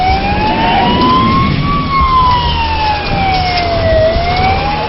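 A Danish unmarked traffic police car's siren wails steadily and loudly in slow rising and falling sweeps during a pursuit, over a constant engine and road rumble, with no talking.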